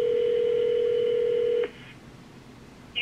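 A telephone call tone sounds as a long steady beep that cuts off abruptly, followed by a quiet pause and then the short start of another tone, with no voices.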